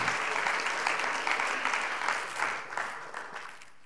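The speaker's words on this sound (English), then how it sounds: "Let's give the Lord a hand clap of praise this morning." A church congregation claps in praise during a Sunday morning service, a steady wash of many hands clapping together that fades gradually toward the end.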